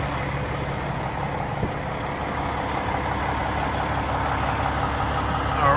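A 2022 Peterbilt 567 truck engine idles steadily nearby, a continuous low rumble with broadband mechanical noise that swells slightly louder at the very end, with no talking.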